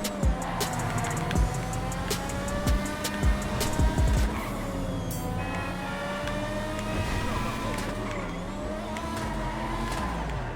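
Progen PR4 race car in GTA Online, engine revving loudly and steadily through the whole run with bursts of tire squeal while cornering.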